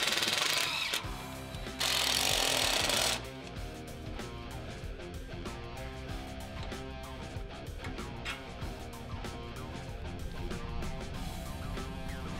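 Power tool tightening a bolt on a Toyota Tundra during a lift install, a loud buzzing rattle for about a second, then a steady mechanical clatter and ticking in the garage.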